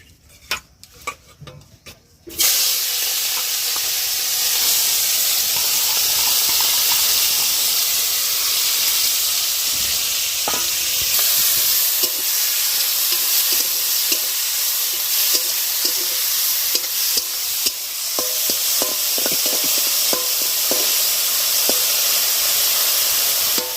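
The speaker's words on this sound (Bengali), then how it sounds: "এটা হালকা আদা ভাজা হয়ে এর ভিতরে তেঁতুল দেওয়া হবে" Ginger fries in hot oil in a pan for a tamarind prawn curry, a loud continuous hiss and sizzle starting abruptly after a few quiet seconds of clatter, with occasional stirring clicks over it.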